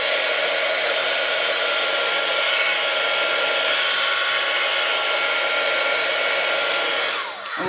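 A heat tool blows hot air steadily onto a Dollar Tree sign piece, a loud continuous close-up roar with no talking, cutting off abruptly at the end.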